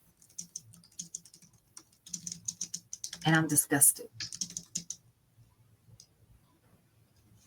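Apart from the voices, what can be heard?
typing on a computer keyboard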